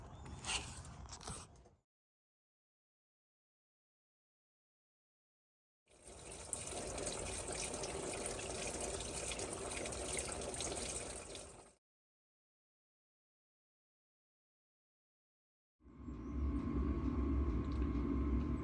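Water runs through an engine hose of a VW T25 Westfalia in a steady rushing flow for several seconds, stops into silence, then starts again, with a brief earlier burst of flow.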